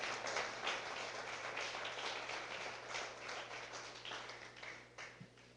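Church congregation clapping hands in praise during a service, steady dense applause at moderate distance with a faint low hum beneath, no voices.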